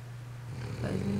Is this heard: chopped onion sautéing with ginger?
no